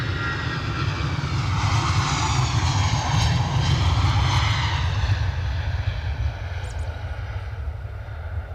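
EasyJet airliner engines running steadily on the runway at Edinburgh Airport while lined up for takeoff, a loud continuous roar with a deep low rumble and broad hiss, no talk.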